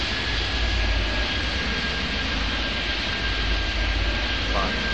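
Steady jet engine roar of an airplane taking off in the video game Airport Madness 3D, from runway 15 at Toronto Island, a broad continuous rush with a faint thin whine running through it.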